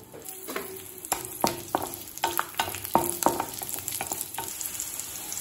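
Fifteen garlic cloves frying and sizzling in a pan for chutney, with steady hiss and repeated scraping stirs of a utensil against the pan, close and moderately loud, no talking.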